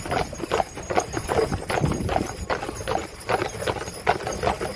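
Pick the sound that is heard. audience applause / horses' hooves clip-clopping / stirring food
horses' hooves clip-clopping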